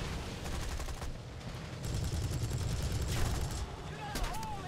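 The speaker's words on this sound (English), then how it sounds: "this plane is just using cannons, which makes it very much harder to hit anything, because you're not firing all the time" Aircraft cannon fire in War Thunder: dense, rapid bursts of cannon shots pound steadily over a roaring, noisy battle background, with short gaps between volleys.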